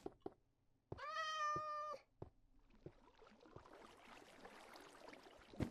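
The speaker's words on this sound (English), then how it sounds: "There's a cat in my house." A cat in Minecraft gives one clear, sustained meow of about a second amid sparse clicks and taps, then a faint scratchy rustle of game sounds follows, with no talk.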